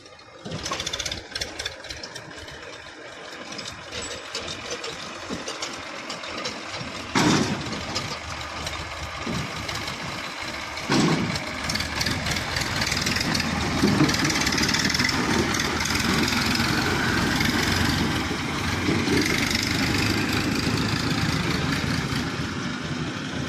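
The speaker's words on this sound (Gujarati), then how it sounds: "ટ્રેક્ટર ચાલુ થઈ ગયું હે" A tractor engine runs steadily throughout, a dense continuous rumble with a couple of sharp knocks early on, growing slightly louder and fuller toward the end.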